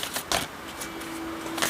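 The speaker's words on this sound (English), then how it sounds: "I'm going to shuffle a couple more times and I'll pull the last one." Tarot cards are shuffled by hand in a few crisp riffling bursts, close and soft, with brief pauses between them.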